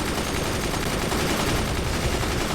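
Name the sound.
mortars firing in the video game Forts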